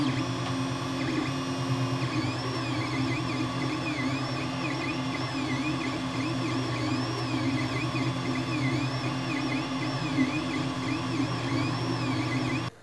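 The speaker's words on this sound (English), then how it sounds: "this printer does suffer from the same problem as the CR10 and I guess many other Chinese printers, that it is very loud and creates a lot of vibrations." Ender 3 3D printer running loudly with vibrations, a steady droning hum with rising and falling stepper-motor whines repeating across the run, close and continuous until it cuts off.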